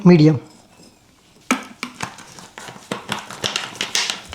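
Batter being stirred and mixed with added water in a bowl for a raw-banana cutlet, giving rapid scraping, clinking strokes of a utensil against the bowl after a brief voice at the start.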